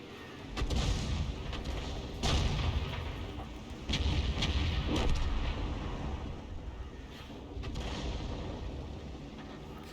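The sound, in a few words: enemy artillery fire in a tank video game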